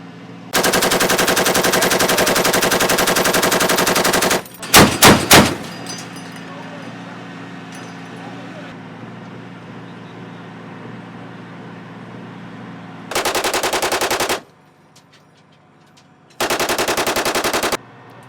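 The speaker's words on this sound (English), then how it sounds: "Three-round burst." A U.S. Marines advanced reconnaissance vehicle's machine gun fires loud sustained bursts in several separate strings, with a quick triple of sharp bangs between them and a vehicle engine idling underneath; people talk briefly.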